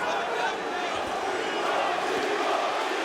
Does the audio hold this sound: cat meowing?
no